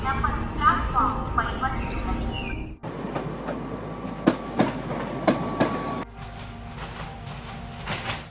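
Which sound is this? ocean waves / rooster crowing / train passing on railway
train passing on railway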